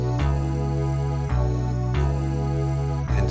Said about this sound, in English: kind of a Fairland voice Synclavier pad in the right hand